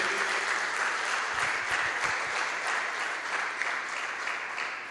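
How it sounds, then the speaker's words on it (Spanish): A church congregation claps in welcome for new members, a dense even burst of applause that continues steadily throughout. "Le damos un aplauso de bienvenida al reino de Dios."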